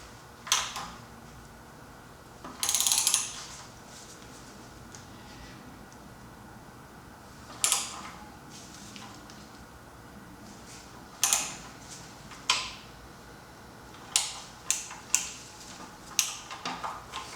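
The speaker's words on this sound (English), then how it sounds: "I'm going to try and torque it." Torque wrench tightening a bolt by hand, heard as sparse mechanical clicks and ratcheting ticks, isolated at first and bunching into quicker clicks near the end, moderately close in a quiet room.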